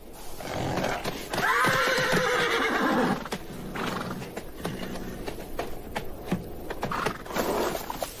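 Wild horses and foals neigh in an African desert, with several loud, drawn-out whinnies up close and a scatter of hoof clops and shuffling in between.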